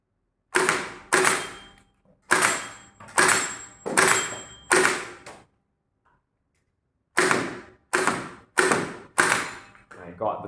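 A BK1 foam dart blaster firing darts in quick bursts of sharp mechanical snaps, two clusters of shots separated by a short quiet gap, loud and close.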